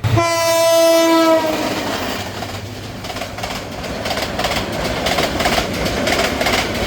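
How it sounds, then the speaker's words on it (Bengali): The Tista Express, an intercity passenger train, sounds a loud horn blast and thunders past near the Jhinai bridge, with the rumble and clatter of its wheels continuing steadily after the horn stops. "রেলপথে পড়ে থাকা শিমুল ফুলগুলো পিষিয়ে দিয়ে তিস্তা এক্সপ্রেস ছুটে যাচ্ছে ঢাকার দিকে"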